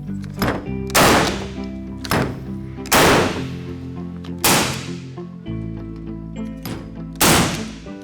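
A powder-actuated Hilti tool fires fasteners, giving a series of about six sharp, loud bangs with short ringing decays at uneven intervals, close by and with no talk.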